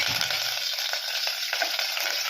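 Dried red chillies and a sprig of curry leaves fry in hot oil with a steady, close, loud sizzle and crackle that runs unbroken throughout.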